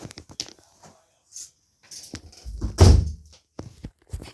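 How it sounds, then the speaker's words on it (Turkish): An indoor door is pushed shut with one solid, close thunk, preceded by scattered light shuffling and handling noises in a quiet room. "Bir dakika kapıyı kapatayım hemen."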